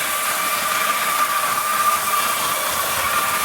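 Running flat out, a 1967 Tri-ang Hornby Blue Pullman model train rushes around the track with a continuous buzzing motor whir and a faint high whine, close and unbroken.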